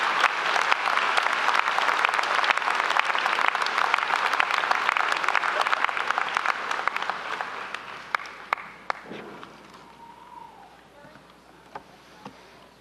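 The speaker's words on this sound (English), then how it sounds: "Please join me in applauding our wonderful, talented graduates" An audience at a University of Regina fall convocation applauds the graduates, a dense, loud sustained clapping that gradually thins and fades into scattered claps near the end.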